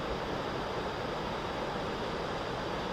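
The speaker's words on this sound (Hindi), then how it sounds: "और ये झरना है" A waterfall in a forested Himalayan river valley roars as a steady, dense rush of falling water, loud and unbroken with no voices.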